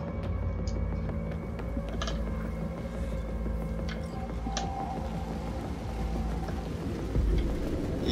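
Steady rain falls over a city in a cyberpunk video game, a dense continuous hiss with faint scattered patter and a low hum beneath, holding an even level throughout with no voices.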